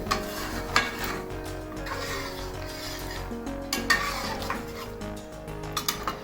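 Mutton charsi karahi being stirred in a metal pot over a high flame after stock is added, with steady scraping and clinking of a spoon against the pot over a low sizzle, close and continuous.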